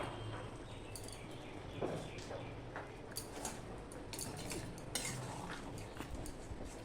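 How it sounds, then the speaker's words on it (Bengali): Crab curry being stirred in a pan, with steady scraping and clinking of a spoon against metal and sizzling underneath, moderately close, no talk. "দেখো বন্ধুরা আমরা সম্পূর্ণটা মিশিয়ে নিচ্ছি"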